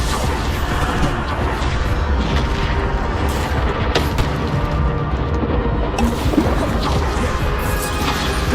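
Bombarda spell explosions in Hogwarts Legacy: loud, dense booms and crashing impacts in a constant, heavy battle din with sharp hits at intervals, no talking.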